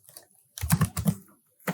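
Code being typed on a computer keyboard, a few soft scattered keystrokes followed by a quick cluster of sharper key clicks and one last tap, close and clear in an otherwise quiet room.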